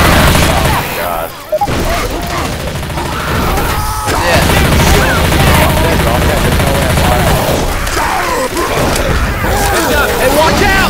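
Heavy gunfire in the video game S.T.A.L.K.E.R. 2: loud, dense bursts of automatic shots and booming impacts running almost continuously, with brief lulls, while a player talks over it.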